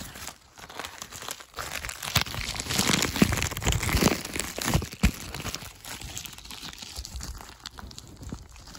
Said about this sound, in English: I got a new package in the mail from Lukie Games, so we're going to go ahead and unbox it.